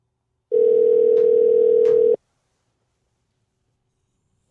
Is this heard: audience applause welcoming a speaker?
no